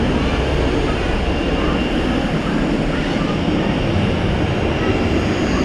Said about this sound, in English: Got a Turkish arrival and a Turkish departure.